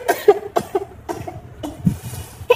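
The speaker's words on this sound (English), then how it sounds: "my cough is really horrible" A series of harsh, repeated coughs in quick succession, close to the microphone, with short pauses between bursts.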